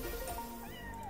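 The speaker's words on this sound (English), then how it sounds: "Meow." Cartoon cat meow from a Chumba online slot game, a short pitched mew with a bending tone sounding over background game music, fairly quiet and close.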